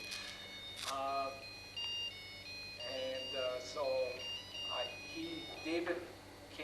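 A phone rings during an outdoor stop in Port Moody, BC, its repeating electronic ringtone melody chiming in short bursts while people talk over it.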